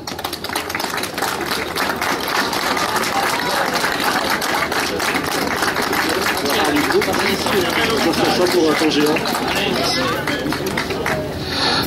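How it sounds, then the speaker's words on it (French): An audience at a giant's baptism celebration in Châtelet claps for the Touyoutes band, a steady, dense patter of many hands with crowd chatter underneath, sustained and fairly loud throughout. "je crois qu'il mérite un applaudissement"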